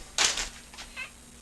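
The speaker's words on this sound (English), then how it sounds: "Hang on, we gotta see what this cat's doing here." A cat named Dash gives a clear, close meow and then a couple of fainter, shorter mews in a quiet room.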